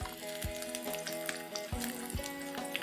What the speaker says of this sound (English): Let's add in the paste of ginger, garlic, and green chili.